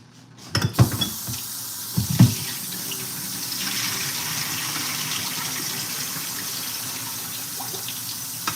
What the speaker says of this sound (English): I'm just draining the water for the meat.